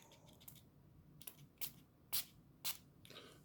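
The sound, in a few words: spray bottle spraying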